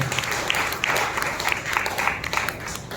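A church congregation claps continuously through an anniversary service, a dense, steady wash of hand claps filling the room with no break.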